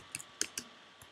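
A few sparse keystrokes on a computer keyboard, four quiet separate clicks spread over about a second, with a low steady room hum underneath and no talking.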